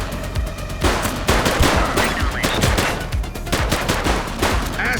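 Heavy bursts of automatic gunfire from a shooter in The Precinct police video game, loud and sustained with sharp repeated cracks over a noisy game mix.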